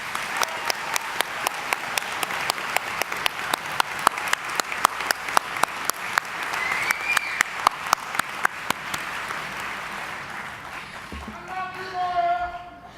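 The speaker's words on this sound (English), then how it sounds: "Let's give them all a round of applause." A round of applause from the crowd at the Central Ohio Technical College summer 2017 commencement ceremony: a steady, even wash of clapping with loud individual claps standing out. It fades toward the end as a voice and a sustained tone come in.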